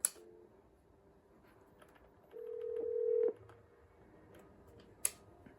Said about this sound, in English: Let's go ahead and do a dial.